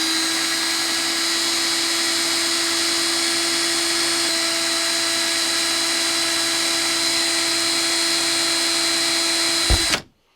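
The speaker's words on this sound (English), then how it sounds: "just go ahead and fire up the drill for a few seconds and check if it's straight." A power drill spins steadily to straighten a twisted vape coil wire held taut with pliers, a loud, constant high whine lasting about ten seconds before cutting off abruptly.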